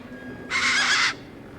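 A tough desert bird in the video game Beyond a Steel Sky lets out one short, harsh squawk that is loud and alone over quiet ambience.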